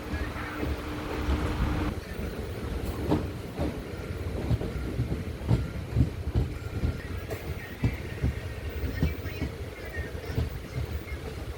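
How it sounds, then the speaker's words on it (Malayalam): The Amritha Express pulls out of Oddanchatram railway station on a hot sunny day, with a steady rumble and rhythmic wheel clatter heard from on board, continuous and fairly loud. "ഒടൻചത്രം റെയിൽവേ സ്റ്റേഷനിൽ നിന്ന് ട്രെയിൻ എടുക്കുകയാണ്"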